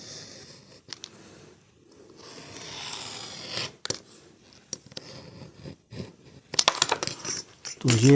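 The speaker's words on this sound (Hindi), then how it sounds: "ये आप कैंची की मदद से भी काट सकते हैं।" Scissors cutting through a plastic X-ray sheet, a series of crisp snips and crackling plastic noises at irregular intervals, close by, mixed with handling sounds and occasional speech.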